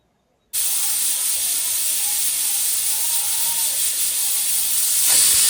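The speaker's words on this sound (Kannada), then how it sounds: "ಇದೊಂದು 2 ಸೀಟಿ ಆಗ್ಬೇಕು ನೋಡ್ರಿ" A pressure cooker cooking mutton biryani releases a loud, continuous hissing steam whistle that starts abruptly and holds steady for several seconds, close by and alone.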